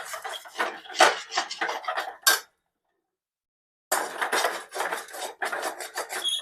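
A stuffed capsicum mixture with black pepper is stirred in a kadhai with a wooden ladle, giving close, loud scraping and rasping strokes in bursts, a short silent pause, then more rhythmic scraping.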